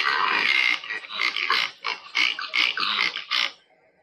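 A series of pig oinks and grunts, several short bursts in a row, fairly close and loud, then fading to quiet at the end.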